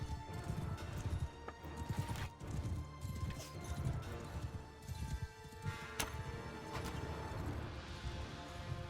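Rapid hoofbeats pound continuously as horses gallop in a Mount & Blade II: Bannerlord battle, with occasional whinnies and clashing impacts, fairly faint overall.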